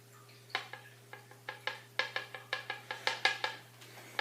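Soap batter for round soaps cast in PVC pipe being mixed, a run of short clinking, scraping knocks in an irregular rhythm, close and moderately loud over a steady low hum.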